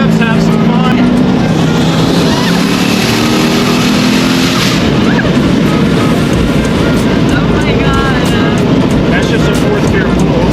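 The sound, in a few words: twin-turbo C6 Corvette accelerating in a fourth gear pull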